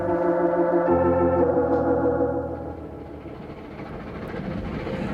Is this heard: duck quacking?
no